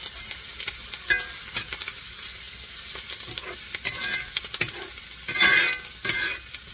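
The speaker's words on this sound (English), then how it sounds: "Stir it around a little bit more." Ground beef for burritos sizzles steadily in a hot pan while a utensil stirs it, with scattered scraping clicks and a louder burst of stirring near the end; no one speaks.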